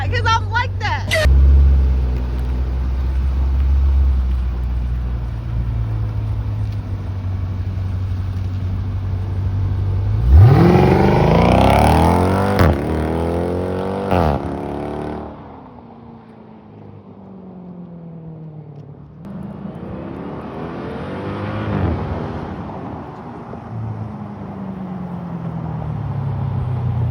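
A Jeep SRT engine and exhaust rev repeatedly up and down at close range, a loud roar with rising and falling pitch sweeps and a deep idle between bursts, while people talk over it.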